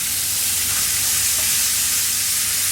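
Cube steak fries in a pan with a steady, loud sizzle and hiss, a constant crackling wash with no talk over it.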